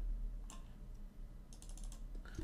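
Typing on a computer keyboard while drafting official letterhead text: quiet, close key clicks in short bursts, including a quick flurry of several taps in the second half.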